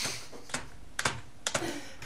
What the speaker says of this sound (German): Tastatur hauen. Guck, ich schreib was.